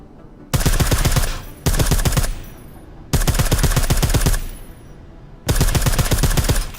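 Rapid automatic gunfire in Deus Ex, loud dense bursts of repeated shots in four separate volleys with short gaps between them, close and alone without talk.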